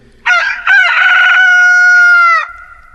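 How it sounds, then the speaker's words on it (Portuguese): A rooster crows once, loud and close, in a long drawn-out call that holds steady before breaking off, with near silence around it. "o galo cantou."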